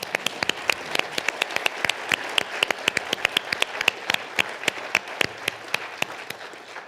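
Audience applause at a 2021 awards ceremony honouring recipients, a dense steady patter of many hands clapping with sharp individual claps standing out, continuing evenly throughout.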